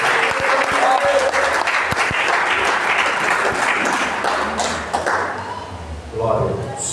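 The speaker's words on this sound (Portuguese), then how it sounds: "receber o irmão com suas palmas, no nome do Senhor Jesus" A church congregation applauds to welcome a preacher, dense sustained clapping filling the room, loud and close, tapering near the end as a voice and other sounds emerge.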